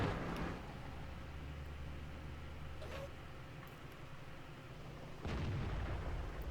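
Tank cannon fire in the World of Tanks video game: two faint, distant booming blasts, one at the start and one near the end, with a quiet hum between.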